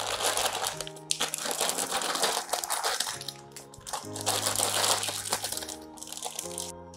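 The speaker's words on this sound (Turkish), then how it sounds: "Poşetleri arkadaşlar hafif çalkalayacağım." Plastic bags being shaken gently give continuous crinkling and rustling for several seconds, with soft crunchy bursts and brief pauses, fairly close, over a low steady tonal background.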